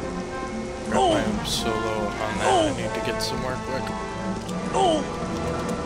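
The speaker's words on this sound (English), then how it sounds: "Why does the stupid rain do so much damage?" Steady acid rain pours down in the Star Wars Jedi Knight: Jedi Academy video game, a continuous patter and hiss beneath a voice talking throughout.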